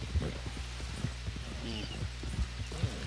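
Horse hooves in Red Dead clip-clop in a steady walking rhythm, fairly close, while someone talks over them.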